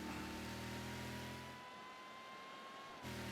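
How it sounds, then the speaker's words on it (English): A car engine in the video game Mafia III holds a steady, thin, buzzy drone at a constant pitch that dips briefly in the middle before returning, quiet and without speech. "Love how my engine sounds like a freaking RC car."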